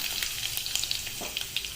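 Curry leaves sizzling and crackling in hot oil, a bright steady hiss with quick pops, close up.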